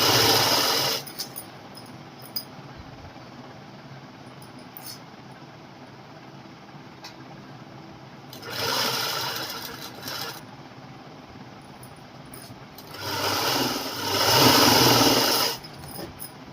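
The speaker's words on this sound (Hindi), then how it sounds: "नीचे की तरफ की सिलाई भी लगा लेंगे।" A sewing machine stitching the lower seam of a girls' co-ord set, with two bursts of motor whir a few seconds long separated by a long quiet stretch, close and alone.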